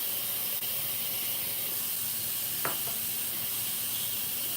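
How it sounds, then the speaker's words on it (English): Steady, broad hiss of steam escaping from a cooking pot of collard greens with smoked meat, continuous and fairly close, with one brief click partway through and no talking. "I'm just helping release a little extra steam."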